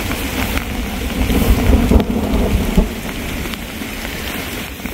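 Heavy rain pounds a tarp and hooped Snugpak Stratosphere bivy during a thunderstorm at camp, a loud, dense, continuous patter with low rumbling swells and no talk.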